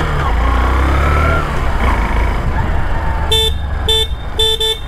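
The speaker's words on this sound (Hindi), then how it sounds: "हॉर्न अच्छा है भाई, हॉर्न लाउड है।" Loud horn of a 2024 Honda Shine 100 motorcycle sounds in three short honks near the end, after a stretch of steady engine and road rumble.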